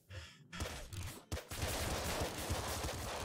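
A full-auto weapon fires in the video game Nuclear Throne Ultra Mod, a dense, loud, continuous stream of rapid shots that breaks off briefly twice before running on without pause.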